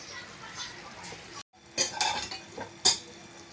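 Metal clinks and clatters as a lid is set onto a pot of simmering fish curry, a few sharp knocks and rattles after a brief silence.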